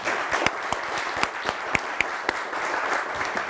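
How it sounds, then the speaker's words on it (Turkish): A game-show studio audience applauds steadily with a dense wash of clapping and a few sharper individual claps standing out, moderately loud throughout. "siz o performansla kuvvetli bir alkış hak ettiniz bence"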